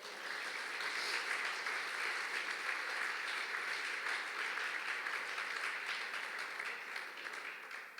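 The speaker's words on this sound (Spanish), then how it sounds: "¿Puede dar un aplauso al Señor?" A church congregation applauds in a long, steady wash of many hands clapping, broad and even in loudness for the whole stretch before easing slightly at the end, with no voices over it.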